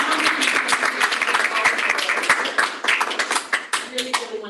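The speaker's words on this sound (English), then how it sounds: "I want to offer a huge round of applause to all three of the teams" Applause for three student teams at an academic event about an encryption compendium, a dense burst of many hands clapping that thins toward the end, with a voice speaking over it.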